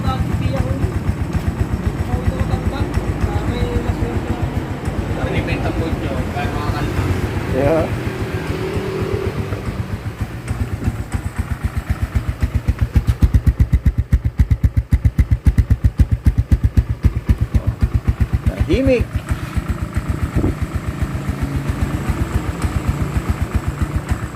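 A Kawasaki Barako 2 motorcycle engine with about 2,000 km on the odometer runs steadily in neutral, its rapid, even low putter continuing loudly for over twenty seconds.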